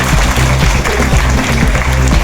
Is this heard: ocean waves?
no